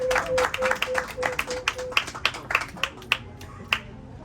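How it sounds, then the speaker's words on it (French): Scattered, uneven hand claps at a YouTube trophy award presentation honoring Roga Roga, a dozen or so sharp separate claps rather than full applause, with a steady tone underneath for the first two seconds. "Vos applaudissements, s'il vous plaît."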